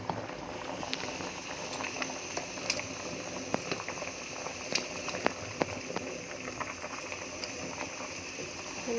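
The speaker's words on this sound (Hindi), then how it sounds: "देखिए बॉयल आ गया है" Liquid boiling in a pot on a kitchen stove, a steady close bubbling with scattered pops and crackles throughout, fairly quiet and with no talking.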